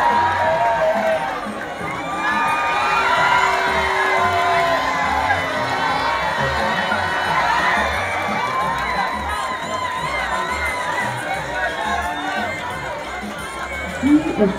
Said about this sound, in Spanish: Fuerte aplauso para G-Stars Academy.